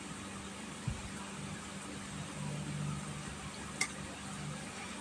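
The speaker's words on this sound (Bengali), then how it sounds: "এভাবে নেড়ে চেড়ে নিতে হবে" White chicken curry stirred in a pan as the liquid cooks down, a faint, steady sizzle under a low background hum, with one soft scrape early on and a sharp clink of utensil on metal near the end.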